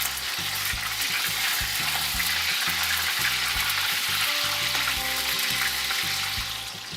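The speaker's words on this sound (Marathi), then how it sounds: "हे पनीर नुसतं हलकंसं भाजून घ्यायचं, थोडं थोडं टाकून बघा।" Paneer pieces lightly frying in hot oil, a dense continuous sizzle close up and fairly loud, steady throughout with a low hum beneath and no talking.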